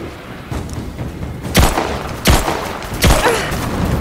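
Gunfire in the video game Rise of the Tomb Raider: three loud, heavy bursts about a second apart over a rumbling background, with no talk.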